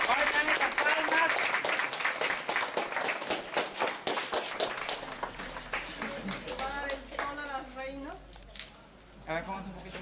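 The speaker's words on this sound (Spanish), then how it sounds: "Fuertes palmas, muchachos, para nuestras reinas" A crowd at an anniversary celebration in Chililique claps in a rhythmic burst of applause for the queens that loosens and tapers, with people talking and calling out over it later.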